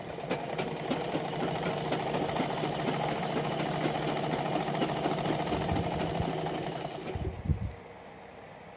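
An electric sewing machine runs a steady fast stitch along a three-inch suit collar strip, a close continuous whirring rattle that stops near the end with a few handling knocks.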